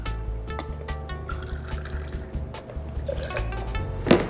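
Fresh lemon juice pours into a cocktail measure or shaker for a lemon drop martini, a short liquid trickle and drip among light clinks of bar tools, close and fairly quiet, with no talking.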